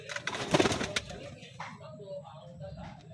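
Racing pigeons coo softly at close range in a loft, with a brief burst of wing flapping near the start and a person talking over the birds.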